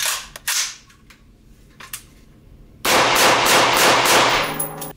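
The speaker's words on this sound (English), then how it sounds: "It's Knights Armament, the three prong. We're gonna be shooting M193." Rifle shots through a Knights Armament three-prong muzzle device firing M193 ammunition: two sharp, loud reports early, then a longer burst of rapid, rolling gunfire.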